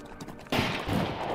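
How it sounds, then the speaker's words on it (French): Gunfire in a Wild West saloon shootout, a sudden loud burst of shots followed by a sustained rumbling barrage, heard without talk. "Toujours ces coups de feu."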